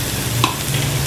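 Ginger garlic paste sizzling in a pan of frying onions for mutton yakhni pulao, a steady crackling hiss with a brief stir or clink partway through.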